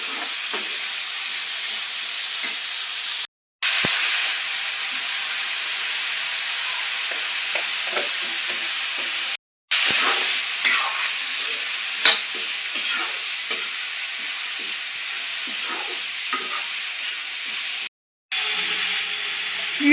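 Paneer masala with ginger-garlic paste and spices is stirred in a hot frying pan, a steady close sizzle and hiss broken by scraping spoon strokes, with brief gaps where it drops out.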